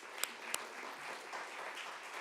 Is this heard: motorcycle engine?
no